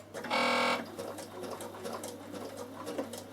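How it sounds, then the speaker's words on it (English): A Bernina sewing machine stitches chiffon, starting with one loud, brief run of rapid stitching, after which only faint clicks and light handling noises follow. "Now I'm just going to stitch"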